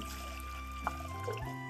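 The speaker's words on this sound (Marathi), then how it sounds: "एक मोठा तांब्या पाणी टाकून घेते" Water poured from a large jug into a pressure cooker holding slit raw green mangoes, a steady low trickle running continuously for under two seconds with a small splash near the end, close and fairly quiet.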